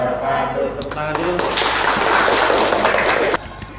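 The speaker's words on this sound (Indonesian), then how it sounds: "Tepuk tangan dulu" Students in a classroom clap after a group presentation, giving a short burst of applause that swells for about two seconds and then stops abruptly, with voices audible before it.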